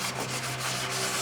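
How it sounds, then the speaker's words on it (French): Paint on a Ford F150 is wet-sanded by hand in circular strokes, making a steady, rhythmic, close-up rubbing and scraping sound. "Alors on ponce en cercle la plupart du temps."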